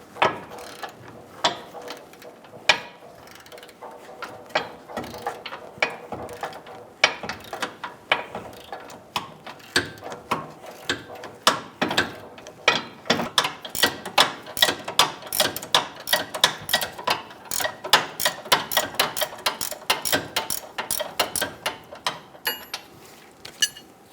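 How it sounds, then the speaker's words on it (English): A 21mm socket on a ratchet and a 21mm wrench loosen the rear bushing nut on a front lower control arm of a 2008-2017 Buick Enclave, giving a long run of quick, close ratchet clicks that speed up into a steady rapid ticking. "Using a 21mm socket and a 21mm wrench, loosen and remove the nut from the rear bushing on the control arm."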